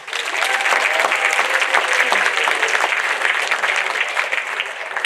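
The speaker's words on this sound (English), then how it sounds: "So give him a round of applause" Audience applause at an Earth Day gathering as a car wash vice president is welcomed to the stage, dense continuous clapping from many hands that holds steady for about five seconds.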